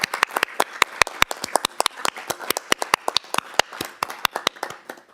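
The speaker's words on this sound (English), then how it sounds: "Sanjay, please stand so we can give you a round of applause." A small group applauds at a council meeting with sharp, separate handclaps in a quick uneven rhythm, fairly close, fading slightly toward the end.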